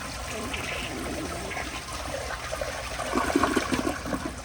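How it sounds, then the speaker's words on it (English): A yellow 1975 Kilgore Apex toilet flushes close by, with a rushing, gurgling wash of water that swells louder toward the end. "here's a flush."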